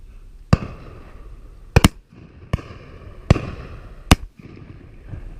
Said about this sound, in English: I've shot all my cartridges off.